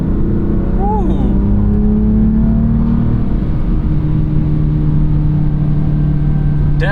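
A turbocharged 2017 BMW M3 F80 engine revs and pulls hard from inside the car, a loud, sustained drone whose pitch climbs and shifts through the clip.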